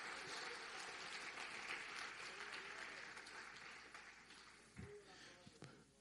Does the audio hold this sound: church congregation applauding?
yes